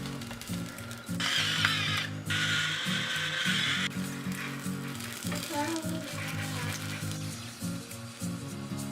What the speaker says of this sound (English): the pan preheated and the oil is already hot. So I put my mushrooms on here.